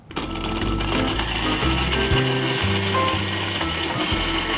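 A blender whirs as it blends a banana chocolate soy milk shake, starting abruptly and holding a loud, steady motor drone with shifting pitch as the contents churn.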